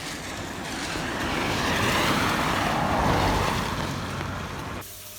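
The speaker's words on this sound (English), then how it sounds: "there's one car that is coming." A single car approaching and passing on a dark, quiet road with little traffic, its broad rushing noise swelling to a peak midway and then fading before cutting off abruptly.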